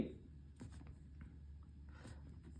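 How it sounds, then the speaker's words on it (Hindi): Pen writing out a math solution on paper during a lesson, soft scratchy strokes in short bursts, close and quiet over a low steady hum, with no talking. "तो यहाँ पे लिखेंगे"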